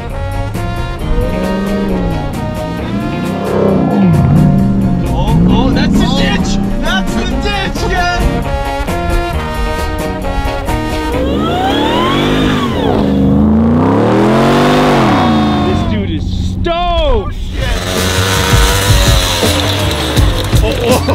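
Dirt bikes race along a snowy street with loud, close engines revving and whining up and down through the gears, sometimes overlapping, while people shout and talk over them.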